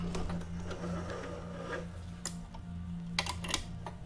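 Sewing machine stitching forwards and then back over fabric, a quiet steady mechanical hum with rapid ticking needle strokes and a few sharper clicks near the end, faint and close with no talking.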